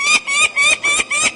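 A bird chick being banded gives repeated loud, harsh calls, about five bursts in quick rhythm at close range, with no talk over them.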